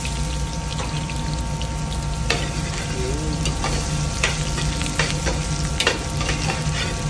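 Onions and garlic fry in hot oil for chili con carne, a steady close sizzle with occasional scraping stirs and clicks, loud and unbroken throughout, with no voices.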